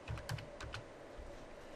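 A few quick keystrokes tap on a computer keyboard, close and faint, clustered in the first second before fading into quiet room tone.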